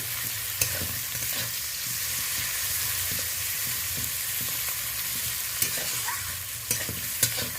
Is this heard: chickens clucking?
no